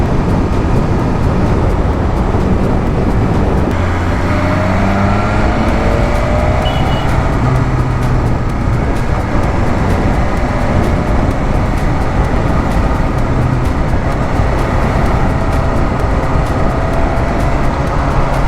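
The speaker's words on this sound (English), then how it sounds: "Too much traffic, too much traffic." Heavy traffic on the Bangalore-Mysore expressway, a continuous loud roar of passing vehicles with rumbling engines and tire noise, dense and unbroken throughout.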